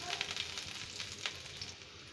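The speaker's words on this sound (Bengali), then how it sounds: "এই তেলটার মধ্যে আমি প্রথমে একটু রসুন কুচিয়ে দিয়ে দিলাম" Chopped garlic frying in a little oil for an egg dish, a steady close sizzle with faint crackles and a few sharper pops, no voices.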